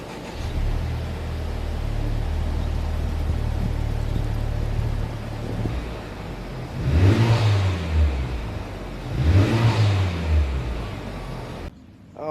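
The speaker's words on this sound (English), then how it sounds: "This will be the last cold start with the stock exhaust." A Honda Civic Type R with its stock exhaust cold-starts and settles into a loud, steady idle, then two sharp throttle revs rise and fall near the end, close up with no talking.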